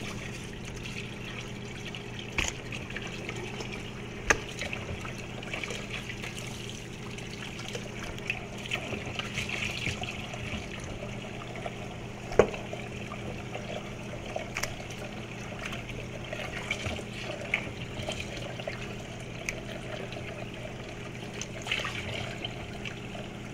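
Camel meat is washed under running water, a faint steady trickle and splash with occasional soft knocks in a quiet kitchen.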